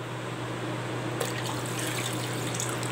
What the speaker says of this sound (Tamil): அதனால் நம்ம நல்லா தண்ணி ஆட் பண்ணிக்கலாம்.